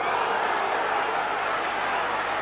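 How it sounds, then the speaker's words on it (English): Rugby league crowd at Castleford roaring in a broad, constant wall of noise, loud and sustained across the short stretch with no breaks. "Big roar from the crowd"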